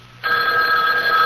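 A telephone bell rings in a radio drama, a loud, steady electric ring that starts abruptly after a brief quiet moment and continues unbroken to the end, with no talking over it.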